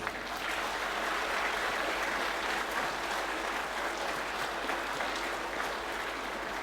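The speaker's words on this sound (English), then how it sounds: "can we please give a round of applause for our distinguished guests" Sustained applause from a large crowd at an Independence Day celebration, dense and even clapping filling the whole stretch without pause.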